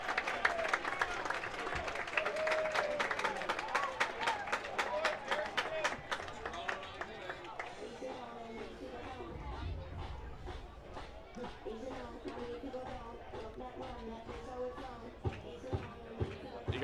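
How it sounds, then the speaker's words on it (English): Baseball playoff crowd at an independent-league game, applauding and clapping with a steady roar, loud at first then settling into a softer murmur with scattered claps, heard under a commentator's talk. "You gotta wonder if this crowd is rattling Carrington a little bit."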